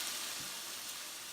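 Smash burger patties fry on a griddle with a faint, steady hiss of sizzling fat, quiet and unbroken.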